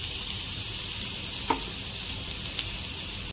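Chopped onions fry in oil in a pan as a steady bright sizzle, with one or two faint clicks against the pan; close, continuous, and without speech until it cuts off abruptly.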